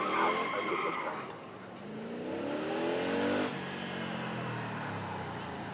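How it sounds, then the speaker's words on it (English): Daytona coupe at a supercar weekend braking hard and downshifting, the engine note dropping in steps with tyre scrub and a quick blip of revs, fairly close with a light voice underneath. "A Daytona coupe then bringing braking traction and downshifting lovely on that."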